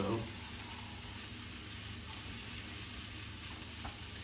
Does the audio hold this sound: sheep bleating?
no